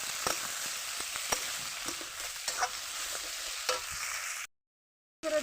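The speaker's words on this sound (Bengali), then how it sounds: "এবারে আমি আলু কুঁদরি এর সঙ্গে মিশিয়ে দেব" Potatoes and kundri stirred into fried onion and chilli in a pan, giving a soft continuous sizzle with scattered scraping stir strokes, fairly faint and without talk, ending in a brief silence.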